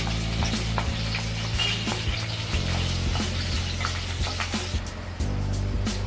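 Finely chopped green chillies fry in a pan for a pressure-cooker veg biryani, a loud close sizzle broken by scraping stirs and spatula knocks at a steady uneven rhythm, with no voices.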